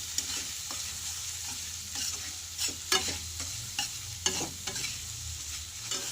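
Spices being stirred in a pan of sizzling oil for Bengali cauliflower curry, with repeated sharp spatula scrapes over a continuous frying hiss, close and without talking.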